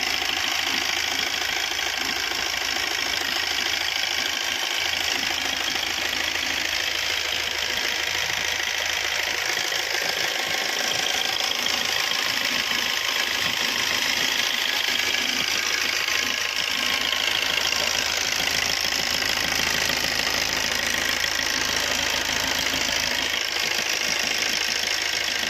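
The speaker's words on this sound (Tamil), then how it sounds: "வண்டி இன்ஜின் நல்லா இருக்குது." A 2009 Maruti Suzuki Swift's engine idles steadily and loudly the whole time, a constant rumbling hum with a light ticking knock, no voices.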